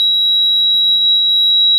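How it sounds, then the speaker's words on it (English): A warning buzzer in a 1978 Corvette sounds with the headlights on, a steady, unbroken high-pitched tone held loud and alone throughout. "Headlights on, get the buzzer."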